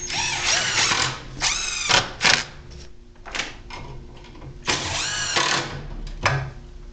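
A power drill drives screws into an electrical box during an electrical rough-in. Loud whirring bursts rise in pitch, separated by short pauses and softer clicks, close by, with no talking.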